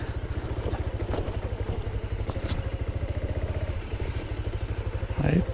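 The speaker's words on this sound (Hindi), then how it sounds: "गाड़ी देखता हूँ कहाँ तक जाती है अपनी बाइक" A motorbike engine runs steadily and close at hand as it rides over a stony, rock-strewn path toward Turturiya Dham in Chhattisgarh, its rhythmic low thrum mixed with rattling and clatter, with voices heard over the engine.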